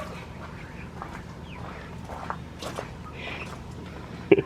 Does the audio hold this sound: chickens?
yes